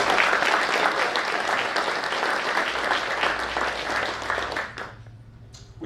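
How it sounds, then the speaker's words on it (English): Audience at a city's state-of-the-city address applauding public safety workers: loud, dense clapping that holds steady, then thins and fades out near the end. "So, I'd like to give them a round of applause"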